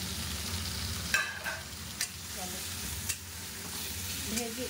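Thinly sliced soybean, potato and paneer sizzle in a pan, a dense close crackle with a few sharp scrapes of a spatula stirring them.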